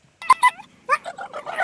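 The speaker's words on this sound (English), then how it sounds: "Let's hear this dog's bark." An excited Springer Spaniel named Rocco gives a few short, strained, squeaky barks with a broken, whistly quality, heard close up in quick uneven bursts.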